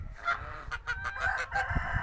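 Geese and chickens outdoors, heard as a close mix of clucks, squawks and honking calls in quick bursts over low yard noise, with no talk.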